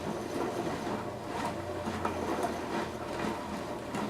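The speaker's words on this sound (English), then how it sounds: "You hear a slump slump and a rattle rattle." A constant low tumbling rumble with a faint rattling churn, steady and even throughout, from a rock tumbler polishing petrified wood nearby.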